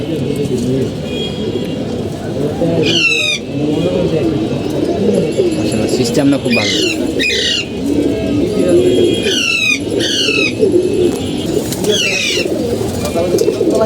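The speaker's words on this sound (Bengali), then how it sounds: "যে কবুতরগুলো দেখতে পাচ্ছেন" Game pigeons kept at a home loft coo in low, rolling throbs that carry on steadily, broken by sharp chirps. Someone talks over the flock.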